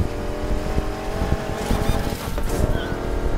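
A damaged car in the racing game Need for Speed Heat squeals oddly as it drives, over a continuous engine drone, with the squeal sharpening in the middle of the short stretch.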